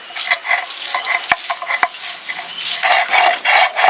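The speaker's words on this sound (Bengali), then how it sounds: "শুকনো লঙ্কা ভাজা" Dried red chillies fry in a pan with a soft crackle, broken by sharp scrapes and knocks of a spatula stirring against the metal, all close and without talk.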